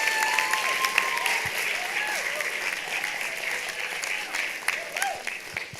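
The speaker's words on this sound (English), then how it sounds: "let's give everybody a huge round of applause" Crowd applause for students at a Perry High School signing day: many hands clapping steadily, with scattered whoops and chatter from the gathering mixed in.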